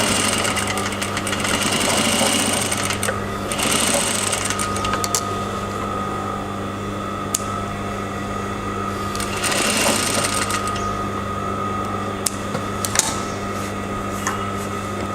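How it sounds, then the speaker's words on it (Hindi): A sewing machine stitching a skirt seam, a close mechanical whir that runs in bursts of steady rapid needle clatter with brief slowdowns and small clicks between runs. "ये जो हमारी स्टिचिंग लाइन है, इसके इस पोर्शन में हमें मशीन चलानी है।"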